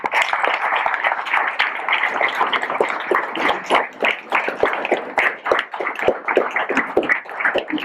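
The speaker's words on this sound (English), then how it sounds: "give Rowdy a round of applause for that" A room full of people gives a steady round of applause at a high school track and field awards banquet. The crowded, even clapping carries on for the whole stretch.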